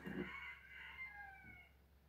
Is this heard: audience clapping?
no